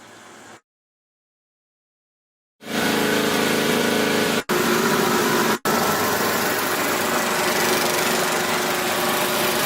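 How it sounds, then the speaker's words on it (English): A 12 hp Briggs & Stratton flathead engine on a Swisher tow-behind mower runs loud and close after a short silence, a rough steady drone broken by two sudden brief dropouts as it surges. "as you pull that lever out just before it hits full choke, it's upping the RPM"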